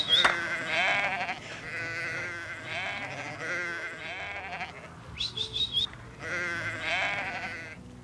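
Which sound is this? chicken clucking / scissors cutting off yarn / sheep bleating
sheep bleating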